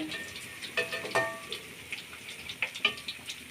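Fish frying in a pan, a steady hiss with scattered sharp pops and crackles and a few clinks, close by and moderately loud, with no voices.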